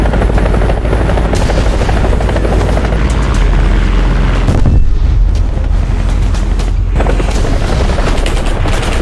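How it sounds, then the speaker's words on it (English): Loud, continuous modern helicopter rotor noise in War Thunder with rapid bursts of 30mm cannon fire and booms throughout, dense and close. "the modern helicopter team is having to use their 30mm cannons"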